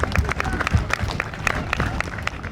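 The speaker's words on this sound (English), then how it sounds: "we have a nice round of applause for the life of John McAuliffe" Crowd applause at the Spirit of Somerset 2023 town event honoring John McAuliffe, continuous outdoor clapping from a sizable gathering with a few louder nearby claps and faint voices underneath.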